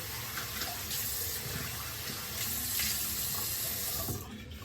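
Cool water runs steadily from a bathroom tap into a sink, a close, continuous hissing splash that cuts off near the end, with no talking.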